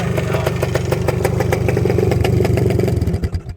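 Yamaha DT400 big-bore two-stroke motorcycle engine revving up close, a loud rapid popping exhaust beat that holds steady then drops off at the end.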